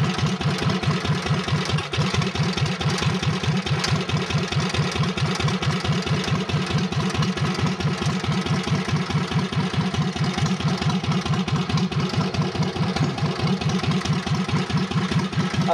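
A Cub Cadet 1650 hydrostatic garden tractor with an added cooling fan idles close by, its engine thumping in a fast, even pulse under a steady rush of blowing air.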